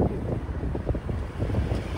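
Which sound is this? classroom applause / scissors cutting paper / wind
wind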